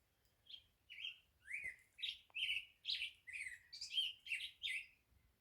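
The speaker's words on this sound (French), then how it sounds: "J'essaie de vous partager le chant de cet oiseau-là" A small bird sings a bright, rhythmic series of chirping notes, about a dozen evenly spaced phrases, clear and fairly close against a quiet backdrop along the Pacific Crest Trail near Tehachapi.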